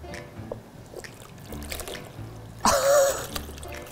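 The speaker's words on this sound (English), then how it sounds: "Pour the mixture into the Jello mold." A brief pour of jello mixture into a mold trickles and glugs for about a second against quiet room noise, faint clatter around it.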